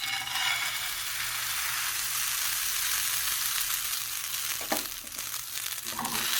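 Baghrir, a Moroccan semolina pancake batter, fries in a hot pan with a steady close hiss of sizzling and a couple of faint clinks near the end.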